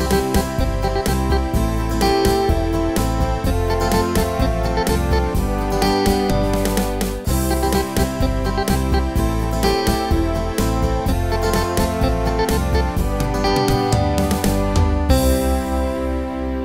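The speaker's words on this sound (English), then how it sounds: "the next style is called the 60s Instrumental Pop." A Yamaha Genos 2 keyboard plays a 60s instrumental pop style, with a full, steady band arrangement of drums, bass and melody running continuously at even volume before a short ringing tail at the end.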